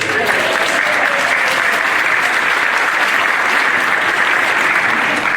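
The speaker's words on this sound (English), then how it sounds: "You can clap if you want." Dense, steady applause from an audience at a sixth annual holiday concert at Elim, a loud unbroken wash of many hands clapping that lasts the whole stretch.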